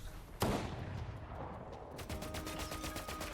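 Gunfire in the Fortnite video game: a sharp single shot stands out early, then a run of rapid repeated shots follows in the second half, fairly loud over a steady game background.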